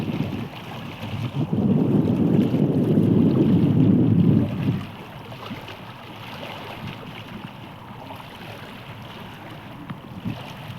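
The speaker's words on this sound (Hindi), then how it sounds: "समंदर की लहरें।" Sea waves wash against an open shore with no fence or barrier, a loud broad surge building over the first few seconds and then easing into a quieter, steady wash with gusts of wind.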